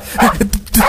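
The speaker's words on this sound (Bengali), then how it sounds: "শুনে তো মনে হচ্ছে অ্যালসিসিয়ান কুকুর গো" A large Alsatian dog barks twice, loud and near, with short gruff bursts.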